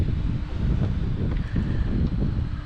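A breezy cold winter wind blows outdoors, buffeting the microphone with a steady, loud, low rushing roar that swells and dips slightly throughout.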